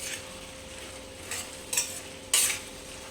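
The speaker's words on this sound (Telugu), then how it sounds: "ఇప్పుడు ఇందులోకి మనం పచ్చికారం వేసుకుందాం." Green chili paste goes into a bottle gourd curry in a pan and gets stirred, with three scraping stirs and a light sizzle, each stroke a short bright rasp, louder toward the end, and no voices.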